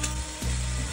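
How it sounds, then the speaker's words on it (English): Ground beef and onions fry in a pan, giving a steady close sizzle with a brief stir or scrape partway through. "After I let my ground beef cook for a second, I added my onions in."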